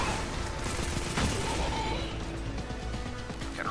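Dense gunfire in the sci-fi shooter game Destiny 2, a continuous barrage of overlapping shots and bursts with occasional sharper cracks, loud and busy throughout with no clear gaps.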